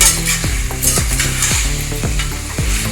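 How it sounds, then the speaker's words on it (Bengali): Mutton curry with potatoes and yogurt, Bengali style, sizzling steadily in a pan while a spoon scrapes and stirs it in repeated strokes, close and loud, no voices. "নাড়তে থাকলাম"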